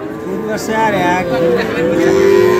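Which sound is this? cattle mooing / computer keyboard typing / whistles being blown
cattle mooing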